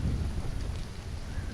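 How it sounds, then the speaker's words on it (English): Thunderstorm in the survival video game Stranded: Alien Dawn, heard as a steady, fairly loud low rumble of thunder and rain that fills the whole stretch without pause. "Get out of the thunderstorm."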